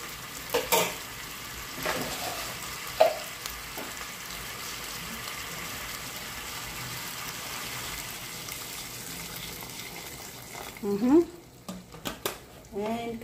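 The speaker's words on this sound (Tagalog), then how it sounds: "Lagyan natin tubig para sa pagpapalambot na." Water is poured into a pan of chicken wing adobo seasoned with soy sauce. A steady sizzling hiss runs throughout, with a few sharp knocks from stirring and a louder splashy burst near the end.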